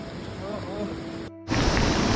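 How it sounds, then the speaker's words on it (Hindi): Heavy rain pours onto trees along a forest trail on the trek to Dwali near Pindari Glacier, a dense, steady hiss that cuts out briefly and then returns louder. "बारिश काफ़ी तेज़ हो गई है"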